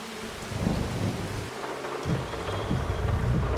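Rain pours steadily in Farming Simulator 25 while deep thunder rumbles roll in repeatedly, loud and close, with no talk over the storm.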